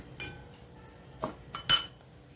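A steel spoon scrapes and clinks against a steel kadhai while milk is stirred, three or four sharp metallic knocks spaced over a couple of seconds, close and otherwise quiet.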